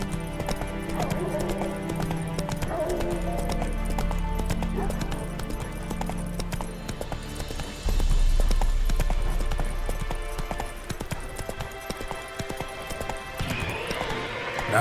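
Roach the horse gallops through The Witcher 3 with steady, close clip-clop hoofbeats and an occasional whinny, over a game score and ambient sound, and a voice speaks briefly.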